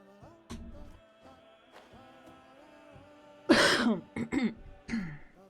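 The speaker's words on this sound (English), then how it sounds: "You need to stop coughing." A person lets out a quick burst of harsh, close coughs and throat-clearing, three or four rough hacks in a row, after a stretch of quiet tonal background sound.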